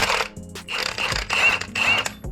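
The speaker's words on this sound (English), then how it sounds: "take the bolt back out" A ratchet on a crank pulley bolt during an LSA pulley setup, heard close up as a few bursts of rapid clicking and mechanical creaking separated by short pauses.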